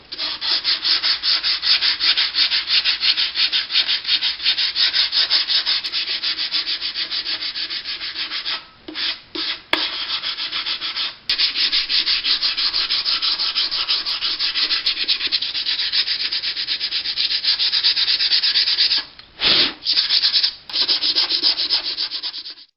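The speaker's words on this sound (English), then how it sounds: "Now that I'm done sanding the scoop here up top" Continuous close-up hand sanding of dried spot putty on a helmet, a rough rhythmic scraping that runs steadily with a few brief pauses where the stroke lifts off.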